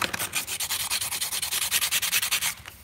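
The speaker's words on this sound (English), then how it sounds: "it still wears at the sandpaper" Sandpaper rubs against a metal engine part, a Predator 212 cylinder head, in rapid, even strokes, a close scratchy hiss repeating about eight times a second before it stops.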